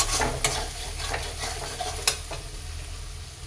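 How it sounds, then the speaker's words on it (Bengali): Masala sautéed in oil in a pan, with a steady sizzle and scraping stirs, a few sharp metallic clinks of the spoon against the pan, close up and alone. "এটাকে এবার ভালো করে কষিয়ে নেব"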